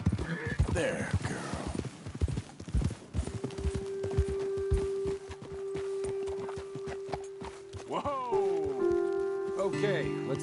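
Horse hooves clip-clop on a trail in Red Dead Redemption 2, an uneven run of close, loud strikes that slows to a halt, with a voice talking over it and a sustained musical tone and whinny-like sweeps near the end.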